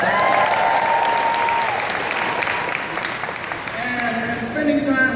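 Convention audience applauding Celeste and the Double Diamond, a full sustained burst of clapping with crowd noise and some voices mixed in, loud throughout.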